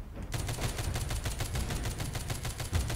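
Rapid bursts of gunfire from the zombie survival video game The Walking Zombie 2, a fast regular string of shots starting after a brief quiet moment and running continuously.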